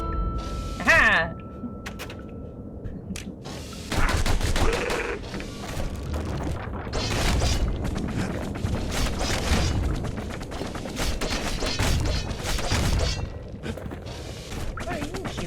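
Gunfire in the action game Bastion, a string of sharp cracks and thudding impacts in scattered bursts among other game sounds, with a narrator's voice speaking at times.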